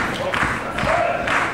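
Crowd at a live Unlimited Wrestling show cheering and clapping in a hall, a steady roar with bursts of applause, heard under a commentator's voice.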